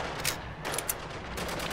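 Rapid gunfire rattles through a Spec Ops: The Line game battle, dense overlapping bursts and shots forming a continuous loud barrage with sharper cracks standing out.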